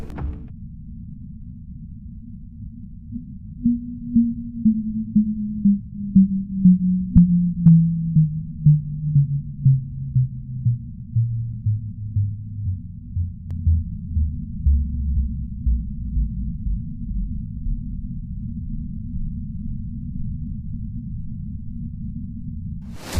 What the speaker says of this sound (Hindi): इस आवाज को फास्ट रेडियो बर्स्ट का नाम दिया गया और इसे मुख्तसर अल्फाज में FRB साउंड भी कहा जाता है।